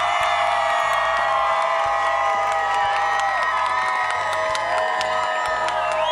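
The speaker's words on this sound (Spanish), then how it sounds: "aplauso al Papa Francisco" A large crowd at the farewell ceremony for Pope Francis at Tocumen International Airport cheers and whoops loudly, high excited voices and shouts layered over scattered clapping, dense and continuous.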